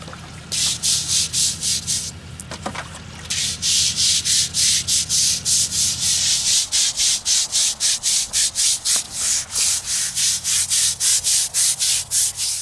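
A brush lays a light coat of acid over carved stone, making close, rhythmic scrubbing strokes that repeat steadily, with a low hum underneath during the first half.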